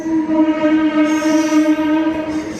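A Hindupur–Guntakal DEMU train gives off a loud, steady droning hum with a strong tonal ring that holds unbroken for a few seconds, with no voices.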